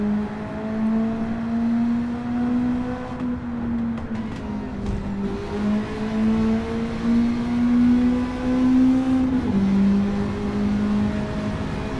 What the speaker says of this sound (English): This is the sports exhaust, by the way. Oh, little pops and bangs as well.